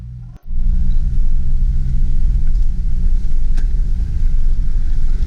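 A vehicle drives along bumpy off-road trails at an outdoor adventure area, giving a steady, loud, close rumble of engine and tires that runs unbroken after a brief thud at the start.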